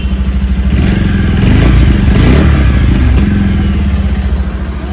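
An old-generation Bajaj Pulsar 150 motorcycle engine idles loudly nearby and revs up briefly before settling back to a steady, rough idle.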